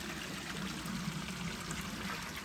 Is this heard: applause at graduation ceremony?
no